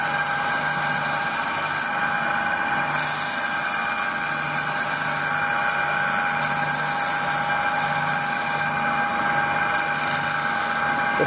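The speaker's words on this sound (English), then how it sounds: "Give it a bit of a sand up on here." Sanding a piece of wood, a continuous loud abrasive rasp in repeated strokes lasting several seconds each, steady and close with a constant hum underneath and no talking.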